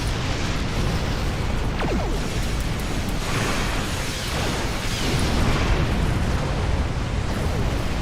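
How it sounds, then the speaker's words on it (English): Explosions in the space combat game Star Trek Online during a capture-the-flag match, a dense continuous roar of blasts and booming bursts that stays loud and unbroken throughout. "so many explosions."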